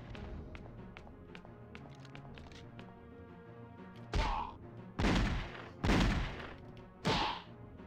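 Gunfire aimed at the player in a Superman video game: four heavy, booming blasts spaced roughly a second apart, following a stretch of lighter tapping and background game sound.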